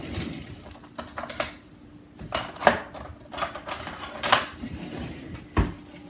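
A spoon mixing corn dough in a bowl for surullitos, giving irregular close clinks and scrapes against the dish with soft, muffled pauses between strokes.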